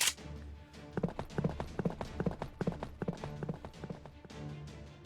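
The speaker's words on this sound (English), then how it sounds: "Looks like they're planning to ride that horse-drawn cart all the way here." Hooves of a horse pulling a cart clip-clop in a steady, even rhythm in a Fate/Grand Order game scene, moderately loud and continuous throughout with no talk over it.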